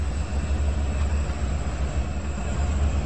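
ES44AC diesel locomotive hauling a long freight train of 49 well cars in the Trainz 2019 railroad simulator, heard as a continuous low engine drone and rumble, steady and fairly loud with no other sounds.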